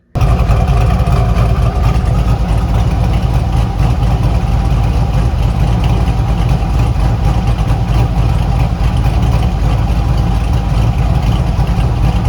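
A freshly rebuilt Corvette C5 Z06 engine idles after its first startup, a loud, steady low rumble with an even pulsing beat that continues unbroken throughout.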